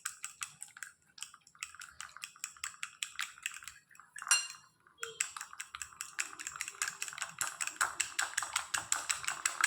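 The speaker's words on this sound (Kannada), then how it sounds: "ಈಗ ಒಂದು ಮೊಟ್ಟೆಗೆ ಸ್ವಲ್ಪ ಕಾರ್ನ್ ಫ್ಲೋರ್ ಹಾಕಿ ಚೆನ್ನಾಗಿ ಮಿಕ್ಸ್ ಮಾಡೋದು" Egg and corn flour are whisked in a bowl with rapid, rhythmic clinking taps of utensil against the dish, close and continuous with one brief pause.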